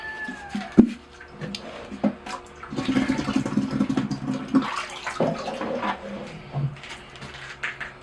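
Water poured over a Portulacaria afra bonsai forest, an intermittent splashing and trickling wash with a sharp clack near the start, fairly close and alone.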